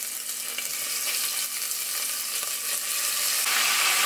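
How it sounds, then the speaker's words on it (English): Venison pieces sear in hot oil in a pan, giving a steady, close, bright sizzle that holds evenly throughout with no talking. "Now it's time to saute the venison. Make sure your oil is hot. Toss a couple pieces in."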